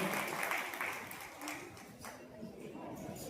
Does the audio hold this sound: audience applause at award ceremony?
yes